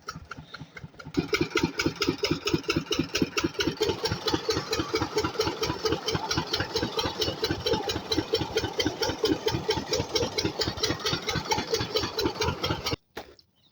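A diesel farm engine used to pump water idles in rapid, regular chugging pulses. It starts after a brief lull, holds steady and loud for about twelve seconds, then cuts off abruptly.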